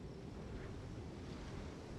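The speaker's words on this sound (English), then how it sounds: "The sound of the waves in this familiar port." Ocean waves at a port in Liyue in Genshin Impact: a continuous, soft wash of surf with breezy hiss, steady and unbroken, with no voices.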